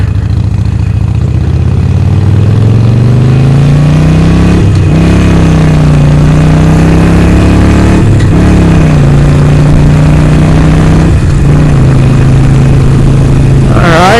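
Harley-Davidson Forty-Eight motorcycle fitted with Vance and Hines Short Shots exhaust, idling loud and close with a steady deep lumpy rumble, broken by a few brief throttle blips.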